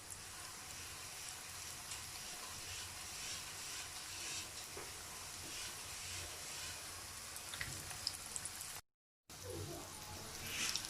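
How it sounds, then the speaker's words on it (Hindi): Sweet potato balls deep-fry in hot oil over a medium-low flame, giving a steady, even sizzle and hiss that briefly cuts out before resuming. "गरम ऑयल में मैं बॉल्स 1 बाय 1 डाली जाऊंगी और गोल्डन कलर आने तक हम लोगों ने जस्ट इन्हें फ्राई कर लेना है"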